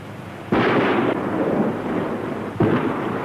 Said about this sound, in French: Observons sans danger l'effet des explosions.